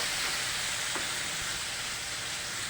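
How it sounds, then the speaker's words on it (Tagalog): Chopped tomatoes sautéing in a pan for ginisang ampalaya, sautéed bitter melon with egg: a soft, steady sizzle and hiss, faint and even throughout with no talk. "Gisa-gisa lang yung kamatis"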